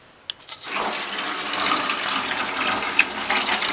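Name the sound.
hot water running into a kitchen sink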